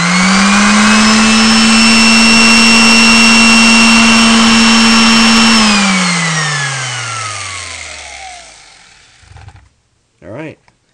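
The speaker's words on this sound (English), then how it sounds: "I'm now going to connect the clamp, and you will see the palm sander come on perfectly." An electric palm sander runs on a 12 volt high-output inverter circuit with a loud steady whine, then winds down in a falling tone as it stops. A couple of brief knocks follow near the end.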